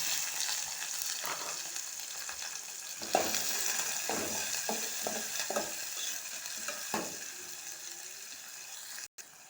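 Cumin, green chillies and onions sizzle in hot oil in a pan, a steady frying hiss broken by repeated scraping stirs, heard close up with no voices.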